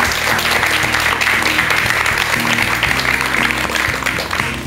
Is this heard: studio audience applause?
yes